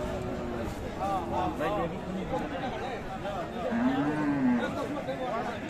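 Friesian cows and calves at a rural cattle market in Dinajpur, with a drawn-out low moo rising near the end over constant crowd chatter and people talking close by.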